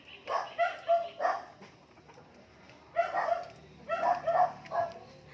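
Several sharp dog barks in short bursts, a cluster early on, a pause, then another run of barks, fairly close and clear.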